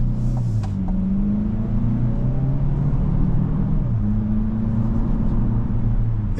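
A 2025 Chevrolet Equinox RS AWD with a 1.5 turbo engine accelerates, a steady cabin rumble with engine tone rising, dropping at a shift, then climbing again.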